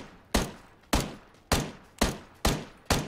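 Six sharp, loud gunshots from a shooter video game ring out in a steady rhythm about half a second apart, each with a short decaying tail and no talk over them.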